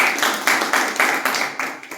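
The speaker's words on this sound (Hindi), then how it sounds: "ताली बजाती है" A group claps hands in a steady rhythm, about four sharp, bright claps per second, loud and close, with no talking over it.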